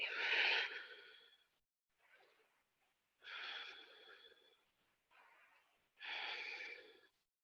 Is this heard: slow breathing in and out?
yes